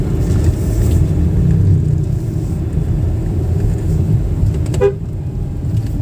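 A car rolling along a winding country road with a steady engine and road rumble, broken near the end by a short horn toot.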